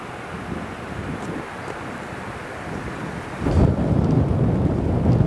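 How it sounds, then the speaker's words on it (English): Fierce wind gusts outdoors on a disc golf course, a loud, rough rumble that buffets the microphone and strengthens sharply partway through. "Fierce wind kicking up."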